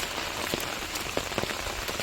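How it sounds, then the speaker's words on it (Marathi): Heavy rain pours steadily on a forest road leading to a river in rural Konkan, a dense continuous hiss with scattered sharper drops close by, no voices. "पाऊस तुफानवर आहे बघू शकता"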